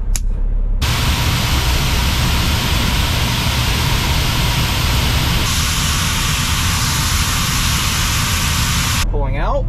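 A truck's rear air suspension dumping air at an ethanol plant unloading pit, a loud, steady close hiss of escaping air lasting several seconds, shifting slightly in tone midway before cutting off.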